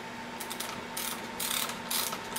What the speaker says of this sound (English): Take your screwdriver.